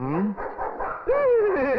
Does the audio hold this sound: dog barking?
yes